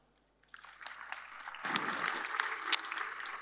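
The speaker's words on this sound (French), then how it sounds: "Sous vos applaudissements." Audience applause at the MEDays 2023 conference in Morocco breaks out after a moment of silence, starting thin and swelling into fuller clapping that stays fairly soft and distant.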